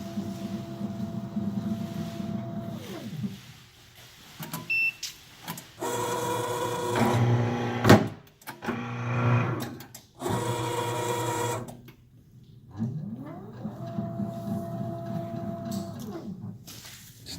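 An EC19 PRO V2 electric guillotine paper cutter runs through cycles of motor hum and mechanical whir, with a heavy clunk as the blade cuts paper, then the motor winds down and starts again.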